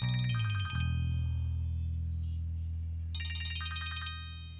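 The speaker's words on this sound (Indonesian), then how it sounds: "Teleponmu berdering." A mobile phone rings with a bright electronic ringtone, two bursts of repeated tones separated by a pause over a steady low hum in an indoor drama scene.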